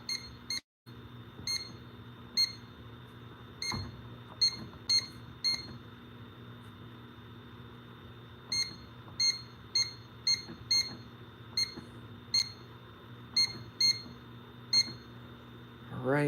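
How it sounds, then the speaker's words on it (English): Short electronic beeps from the CO alarm on an SK 5700 security keypad repeat at irregular intervals, some single and some in quick pairs, over a steady low hum. "We're gonna do CO alarm."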